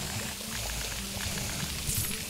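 The Aquamenti water spell in the Lego Harry Potter video game pours a steady stream of water, a continuous moderate splashing with a few faint chimes and no talk.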